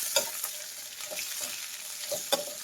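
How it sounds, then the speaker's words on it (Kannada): Sliced capsicum fries in a pan with a faint, steady sizzle, broken by a few soft scrapes and clinks as the pieces are stirred; no one talks. "ಸ್ವಲ್ಪ ಫ್ರೈ ಮಾಡಬೇಕಷ್ಟೇ."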